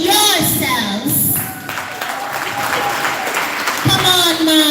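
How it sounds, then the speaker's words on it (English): An audience at a live health-outreach event claps in a sustained round of applause, mixed with music or tones and some crowd voices, steady and fairly loud throughout. "put your hands together for yourselves"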